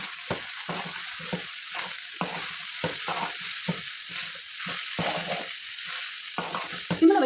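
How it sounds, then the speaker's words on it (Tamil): Poha cooks with salt in a pan while being stirred, a continuous sizzle broken by repeated scraping strokes of a spoon, close and fairly loud throughout. "இப்போது அவளுக்கு தேவையான அளவு உப்பு போட்டுட்டு நல்லா வேகிற வரைக்கும் கிளறி விட்டுக்கோங்க."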